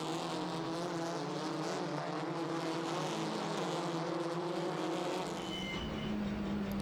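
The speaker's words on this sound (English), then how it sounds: "Bjork and Erlischay are our two race leaders, and everybody else is squabbling over positions further back" Touring race cars at a TCR World Tour round in South Korea, a sustained droning engine roar with layered pitch tones, loud and continuous, a brief higher whine near the end.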